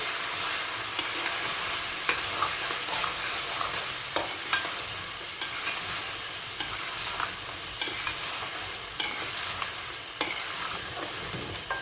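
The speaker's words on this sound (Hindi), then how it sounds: "अब हम इसमें सारे मसाले डाल देंगे और इसको बहुत अच्छी तरह भूनेंगे" Mutton and spices frying for karahi over high heat, a continuous crackling sizzle broken by regular scraping knocks of a spoon stirring against the pan, with no one talking.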